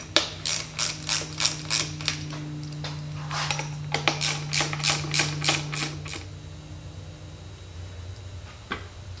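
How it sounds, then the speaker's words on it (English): Ratchet wrench tightening bolts on a D-Type overdrive casing, bursts of rapid close clicking strokes repeated over several seconds with a steady low hum beneath, then quiet. "I'm going to tighten down these bolts again."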